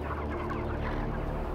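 A dense flock of chickens clucks and murmurs inside a crowded farm shed, making a constant low babble of overlapping bird calls at a steady, moderate level with no speech.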